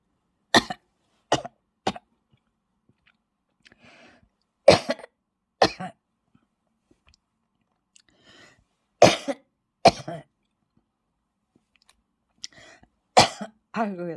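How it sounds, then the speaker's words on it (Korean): Repeated dry coughs in short clusters, close to the microphone, separated by quiet pauses. "이 대목에서 내 기침이 나오죠"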